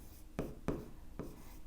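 Pen strokes scratch across paper in three short, close bursts with quiet gaps between them, faint and alone with no talking.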